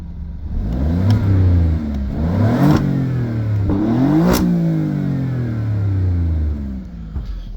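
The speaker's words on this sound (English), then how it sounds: "now the engine's warmed up pretty good, I'm actually gonna rev it up a little bit for you." A 2018 Alfa Romeo Giulia Quadrifoglio engine revs up and down repeatedly, rising and falling in pitch with a sharp pop from the exhaust, loud and nearby, steady idle beneath.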